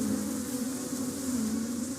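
A swarm of honeybees buzzes steadily around their hives in summer, a dense, continuous close drone with no pauses.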